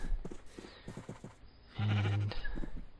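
In a video game, a sheep lets out one sustained bleat in the middle, with footsteps or clicking game sounds around it.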